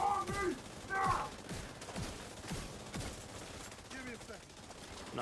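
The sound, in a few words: gunfire from the video game The Division 2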